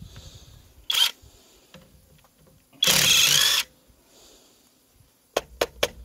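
A Kamolee impact wrench loosens a bolt in short bursts: a brief whir, a longer burst of about a second, then several quick rapid hits near the end, close up in a quiet room.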